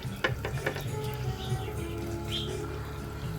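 Seafood sizzles in a hot pan, with a steady frying crackle, a few sharper pops and clicks early on, and faint bird chirps in the background.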